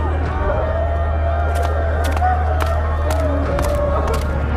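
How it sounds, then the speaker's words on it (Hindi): A crowd gathered around a house in a cartoon, heard as a steady murmur of many voices with scattered shouts and sharp knocks over a constant low hum. "रामदीन के घर के आसपास काफी भीड़ जमा थी।"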